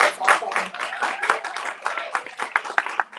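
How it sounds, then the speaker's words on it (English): A crowd at a presidential debate claps steadily and fairly close, in a mixed patter of hands that continues throughout, with murmuring voices underneath. "Can we give a round of applause to Brother Amir?"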